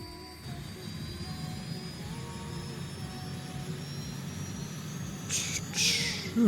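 A flight simulator aircraft engine spinning up, a steady whining drone with a rising high tone and low rumble, fairly quiet throughout, with a couple of brief hissing bursts near the end.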